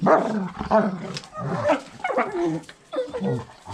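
Several dogs barking and whimpering in an agitated burst alongside a voice at a kennel, with rabbits and chickens kept nearby; the barks come near and repeated, mixed under and between his talk.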